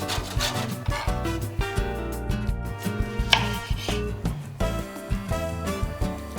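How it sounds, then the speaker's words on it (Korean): A knife chops and minces washed lime peel on a board in quick, steady, close taps that keep a brisk rhythm throughout, with music playing underneath. "라임도 껍질을 깨끗하게 씻어서 생강과 마찬가지로 썰어서 다져주세요"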